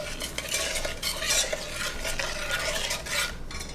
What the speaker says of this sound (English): just gonna give it a real gentle stir.